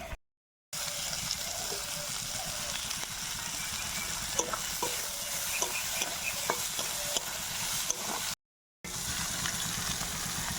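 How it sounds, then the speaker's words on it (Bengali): Chopped tomato fries with lightly cooked onions and green chili in a pan, a continuous sizzle with regular scraping stirs and small clicks, interrupted by two brief dropouts to silence. "এবার দিয়ে দেবো টমেটো কুচি।"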